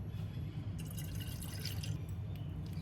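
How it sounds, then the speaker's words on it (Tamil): Milk is poured into a cooking vessel while making appam with coconut milk, a soft, steady liquid trickle and splash that runs throughout, faint and continuous, with no talking. "இப்போ இந்த பாத்திரத்துலையே பால் ஊற்றி காய வச்சு எடுத்துக்குவோம்"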